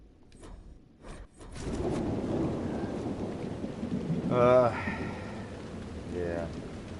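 Heavy rain and rolling thunder in a storm in the video game Dragon Age: Inquisition, a dense continuous downpour with rumbling swells and a brief voice-like cry partway through.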